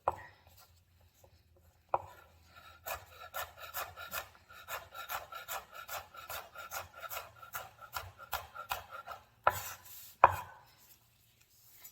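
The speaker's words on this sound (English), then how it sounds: "I'm just going to slice it. And I'm going to rough chop it." A knife rough-chops ingredients on a cutting board for chicken and sausage jambalaya, with rapid, even, close-up chopping strokes in a quick run and a few heavier knocks near the start and end.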